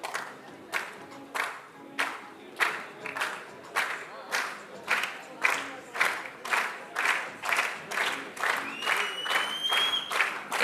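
Spectators at a women's 10m air rifle shooting world cup in Bhopal, India clap in a steady rhythmic unison beat, about two claps per second, building with whistles and cheers toward the end.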